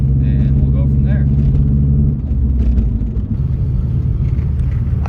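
A manual transmission car rumbles with a low, steady engine drone heard from inside the cabin. It stays loud and even throughout, easing slightly partway through.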